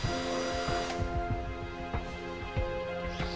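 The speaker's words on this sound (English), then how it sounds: "holes measuring 5 mm in diameter are first of all drilled at each end of the crack" A drill bores 5 mm holes at each end of a crack in a damaged plastic bumper, a steady whining motor hum with periodic low thumps and slight pitch shifts as the bit bites, close and alone.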